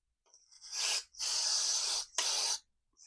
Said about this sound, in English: Right, blew that copper washer out.